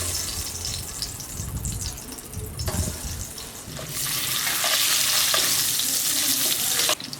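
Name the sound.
eggs frying in oil in a kadai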